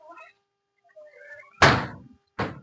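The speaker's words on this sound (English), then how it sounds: "open the door with the foot." A door is pushed open with a foot in a back yard, giving a close, heavy thunk followed by a second thump, with faint bird chirps and quiet ambience beforehand.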